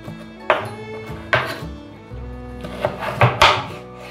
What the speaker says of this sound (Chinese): 这里再对半切成条状